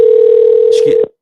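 A steady telephone dial tone hums through a call attempt, with a faint rhythmic pulsing, a brief burst of higher-pitched noise near the end, and then it cuts off abruptly.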